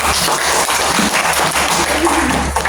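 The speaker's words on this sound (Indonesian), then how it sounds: "Tepuk tangan untuk Awet" A class of students claps for a classmate named Awet during a religious-studies lesson, a short burst of loud, close applause that fills the moment without a break.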